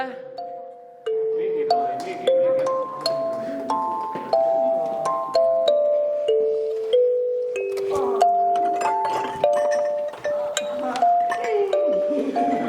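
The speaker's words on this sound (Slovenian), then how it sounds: "Na, pridružita se mi malo zvončki, poigrajta." Small hand bells are struck and played during a storytelling performance about a magic forest, giving a steady stream of bright, overlapping ringing tones with varied pitches that carry on for the whole stretch.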